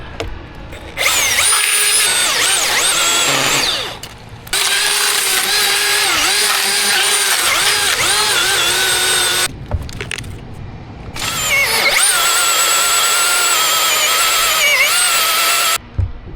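A Milwaukee battery-powered saw cuts through a big tree trunk during a tree removal. The loud, high whine runs in three long bursts, with short pauses between them where the motor drops off.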